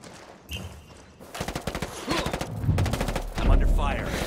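Video game gunfire crackles in a rapid burst of shots after a brief quiet start, loud and close, continuing to the end with a voice speaking over part of it.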